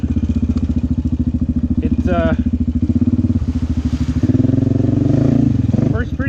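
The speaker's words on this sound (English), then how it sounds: "I actually got an HMF Performance Series exhaust on." A motorcycle fitted with an HMF Performance Series aftermarket exhaust idles with a loud, steady, lumpy thump close by, its pitch lifting slightly partway through, while someone talks over it.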